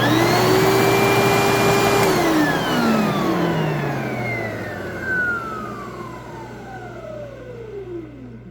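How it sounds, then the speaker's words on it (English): An Advance Spectrum 12P commercial upright vacuum cleaner running without its filter gives a loud steady motor whine that drops in pitch and winds down as it powers off, with no talking. "this vacuum cleaner runs just amazing. I can even run it without a filter"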